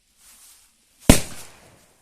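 A Trueno Especial No.6 El Gato firecracker goes off in a single sharp, loud bang after a faint fuse sizzle, followed by a brief fading echo outdoors.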